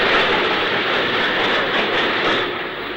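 A 1960s steam train runs along the line near a junction off the Oxford to Banbury main line, heard as a steady, loud rumble of wheels and carriages with faint rhythmic clatter throughout.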